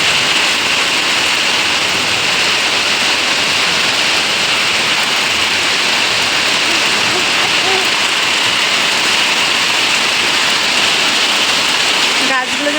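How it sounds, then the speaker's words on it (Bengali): Heavy rain pours steadily in a morning downpour, a dense, continuous hiss that stays loud and even throughout, with a brief knock near the end. "জোর বৃষ্টি হচ্ছে দেখো"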